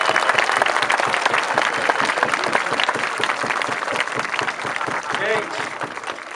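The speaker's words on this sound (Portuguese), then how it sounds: "quero uma salva de palmas" Sustained applause from an audience at a spiritual mapping lesson gathering: dense, steady clapping from many hands that keeps going at an even level throughout.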